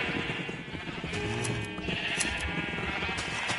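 Sheep in the Minecraft video game bleat several times in quick succession, the calls close and fairly loud, with no talking over them.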